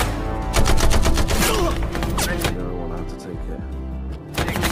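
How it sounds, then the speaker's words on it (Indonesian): Gunfire rattles through a film gunfight as special forces storm in for an ambush, rapid broadband bursts of shots over heavy soundtrack and effects, with someone talking across much of it. "salah seorang anak buah Swans, pasukan SAS pun segera masuk dan melakukan penyergapan, sehingga baku tembak pun terjadi."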